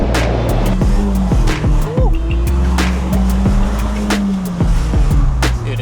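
A Mercedes car engine runs in a steady, loud, low drone close by, with repeated sharp ticks and clatter scattered over it.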